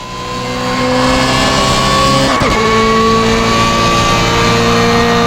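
A BMW M3 GTR engine in the video game Assetto Corsa screams at high revs down a straight on the Nordschleife, rising steadily in pitch and loudness, with a quick gear shift midway before climbing again.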